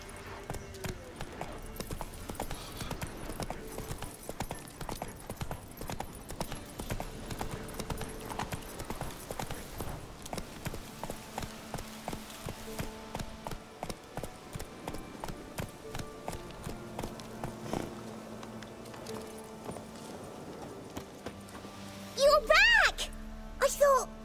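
Horse hooves clip-clop steadily at a trot or canter in The Witcher 3, a long regular rhythm of close hoofbeats under game music and speech, with a louder burst near the end.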